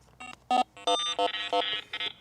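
A Rippton Bitekeeper Cube fishing bite alarm sounds a run of loud, sharp electronic beeps in a quick, uneven rhythm, close and clear with no other sound.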